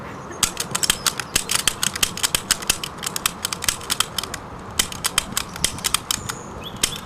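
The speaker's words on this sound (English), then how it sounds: "You'd operate the bolt with like this and then pull with this," First World War bolt-action rifle with its bolt worked rapidly, giving a long run of sharp metallic clicks and clacks in quick, slightly uneven rhythm, close and crisp against a quiet background.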